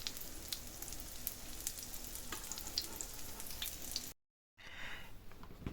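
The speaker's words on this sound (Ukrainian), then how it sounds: "І так жаримо, допоки не закінчиться наш фарш" Liver patties fry in a pan with a soft, continuous sizzle and scattered small pops, fairly quiet, cutting briefly to silence before the sizzling resumes.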